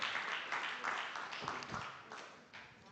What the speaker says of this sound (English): Here we go, round of applause